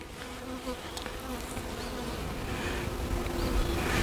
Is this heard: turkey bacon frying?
no